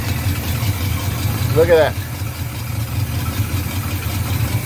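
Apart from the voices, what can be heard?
Luhrs 28 boat engine started and idling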